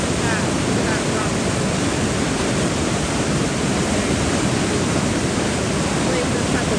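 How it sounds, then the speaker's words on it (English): Water rushes steadily over rocks near the ocean, a loud, dense, unbroken roar with wind buffeting the microphone throughout and no voices. "this has the water running over it"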